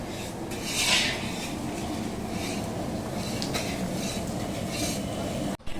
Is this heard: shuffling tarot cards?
no